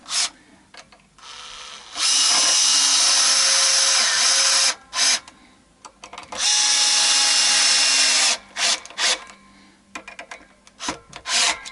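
Screws being driven into the neck of a Vintage Icon V6 guitar with a powered driver: two long, loud whirring runs, each several seconds, with shorter bursts and pauses around them, close by.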